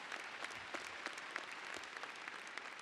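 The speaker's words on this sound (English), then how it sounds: "Can we give them a round of applause, too?" Audience applause fills a winter commencement ceremony, a steady, dense clapping from a large crowd that holds evenly for the whole stretch without pause or voices.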